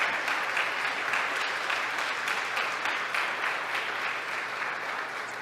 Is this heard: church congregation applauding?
yes